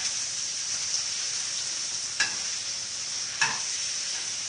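Onions frying for a stir fry give a steady, close sizzle, broken twice by short scraping stirs against the pan.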